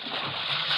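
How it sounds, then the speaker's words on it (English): People slip over the side of a wrecked boat into a river near rocks, making a steady, close, loud rush of splashing and churning water that carries on for the whole stretch. "I think we'd better slip over into the water on the other side of the boat here."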